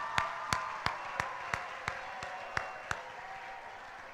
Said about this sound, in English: Everyone give the Director of International Convention a round of applause.